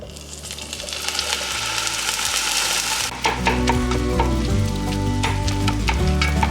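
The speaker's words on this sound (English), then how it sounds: "we're gonna go ahead and brown 1 pound of lean ground beef" Lean ground beef browns in olive oil in a Dutch oven over medium-high heat, a loud, steady close sizzle with scraping stir clatter that grows busier and more percussive partway through.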